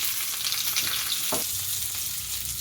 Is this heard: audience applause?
no